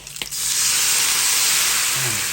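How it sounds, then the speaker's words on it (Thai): Pork belly stir-fried with garlic in a pan with a little oil for an eggplant and bean-paste dish, giving a loud, steady sizzle that bursts in after a brief quiet start and hisses without pause. "คั่วให้มันหอมเข้ากับกระเทียมนะครับ"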